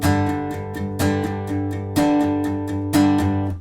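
Acoustic guitar strums chords for a song in a steady pattern, with bright accented strokes on beats two and four, close and clear, no voices.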